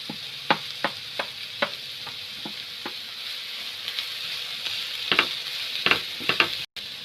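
Chopped cabbage and grated carrot fry in a pan at home, sizzling steadily close up, while a utensil stirs them with repeated sharp clacks and scrapes.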